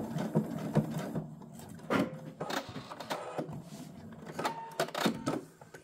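A sewing machine stitches in a replacement zipper on a skirt in short start-stop bursts, with clicks and brief whirs spaced irregularly, close and moderately quiet.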